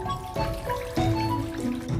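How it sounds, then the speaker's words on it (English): Soaking water with drawn-out blood drains from lamb ribs, trickling and splashing close up in a kitchen in uneven pours and drips. "Then take them out and drain the water."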